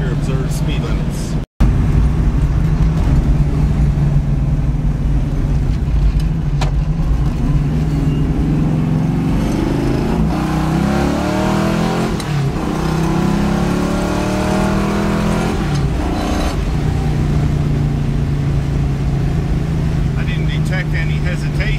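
Pontiac Firebird car engine running steadily while driving, a continuous droning hum with slowly rising and falling pitch, heard from inside the car with people talking over it.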